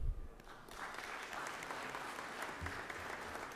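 Applause breaks out in a state legislative chamber after a brief low thump, a dense, even clapping from many people that holds steady at moderate level to the end.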